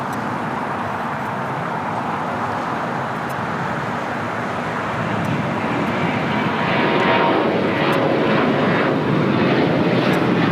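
An airliner at LAX, a flight bound for Atlanta, roars steadily without a break, and the engine noise swells louder toward the end with no voices.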